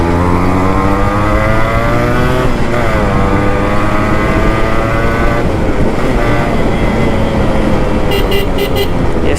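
A restored Yamaha RX two-stroke motorcycle engine revving hard near at hand, pitch climbing and dropping through rev-matched gear changes, steady and loud, with a few short horn-like beeps near the end.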